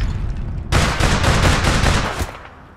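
Rapid automatic gunfire in the online shooter APB Reloaded, a loud close burst of repeated shots starting suddenly, firing in quick succession for about a second and a half and then tailing off.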